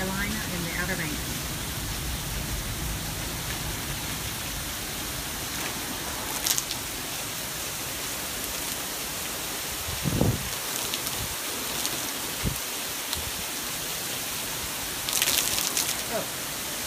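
Heavy rain pouring at the Sanderling Resort in Duck on North Carolina's Outer Banks, a steady dense broadband hiss throughout with occasional brief thumps and splashes, no talking.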